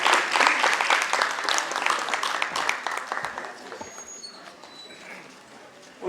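An audience at a stage play performance breaks into loud, dense clapping that peaks early and then gradually thins out and fades over several seconds.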